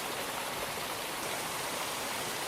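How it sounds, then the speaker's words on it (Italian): Waterfall at Cascate del Silan in Veneto, amid humid, tropical-looking vegetation: a steady, dense rush of falling water, close and fairly loud, with no voices. "Guardate che cascata, è bellissima."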